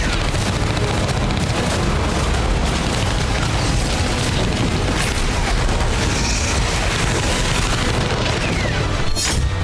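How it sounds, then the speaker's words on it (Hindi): Artillery cannons fire continuously during the Bharat Shakti military exercise at Pokhran, a dense, loud barrage of booms and blasts with no pauses between them. "भारत शक्ति में तोपों की गर्जना हुई"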